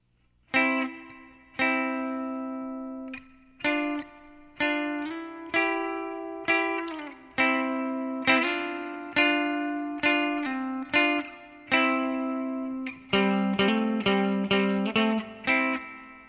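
Electric guitar plays a lick of sustained two-note double stops with slight overdrive, each ringing out before the next, quickening into a run near the end.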